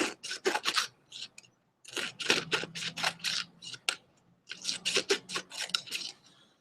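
Scissors snipping through paper slips with names on them, close and crisp, in three bursts of quick repeated cuts separated by short pauses, with no voices.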